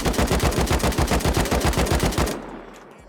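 Rapid automatic gunfire from a weapon in the Rust video game: a fast, even burst of about eighteen loud, close shots lasting a couple of seconds, then a short fading tail.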